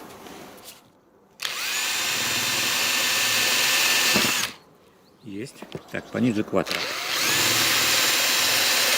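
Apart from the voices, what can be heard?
drilling holes in coconuts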